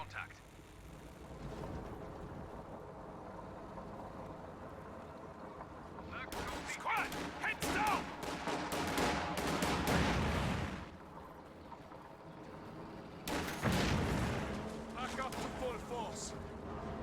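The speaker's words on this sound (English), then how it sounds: "Shoe mine gets detonated on the captain right here." Shoe mine detonating in Company of Heroes, a loud burst of blasts and crackling debris landing over a low battle rumble, followed a few seconds later by a second sharp explosion.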